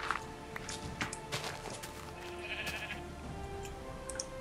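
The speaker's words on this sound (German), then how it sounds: "Jetzt hat gerade einfach das Schaf Gras gefressen." Minecraft sheep bleating in a game, a few short, faint bleats over a low steady background with light tapping footsteps.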